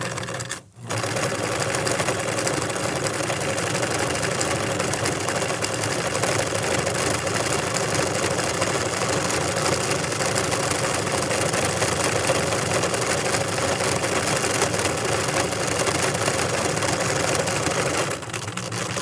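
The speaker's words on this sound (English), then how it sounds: "Again, I start at the side seam and just start sewing." A sewing machine stitches the casing of a double drawstring bag along the side seam, a fast continuous mechanical whirr held close and steady for many seconds, starting after a short pause and stopping near the end.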